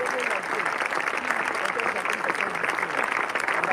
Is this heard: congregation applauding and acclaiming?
yes